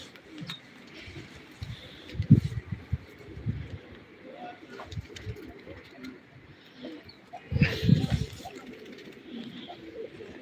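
Pigeons coo in soft, repeated bursts, with two louder clusters, under faint background noise and occasional talk.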